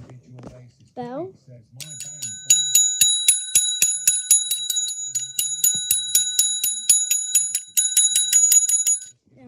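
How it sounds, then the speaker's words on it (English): Rapid, continuous ringing of a small metal bell, close and loud, lasting several seconds; people talk briefly before the ringing begins. "The bell."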